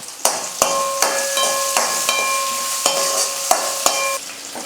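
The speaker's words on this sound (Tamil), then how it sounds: "பாருங்கள் வெங்காயம் வந்து நல்லா வதங்கிடுச்சு" Chopped onion and green chillies sauté in a pan. A loud, steady sizzle runs under repeated metallic taps and scrapes of a spoon, with ringing tones from the pan.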